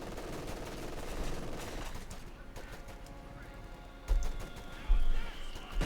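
Game audio of .50 cal machine gun fire in Company of Heroes 2, dense rattling bursts mixed with other battlefield gunfire and effects, with a couple of louder impacts near the end under a steady game soundscape.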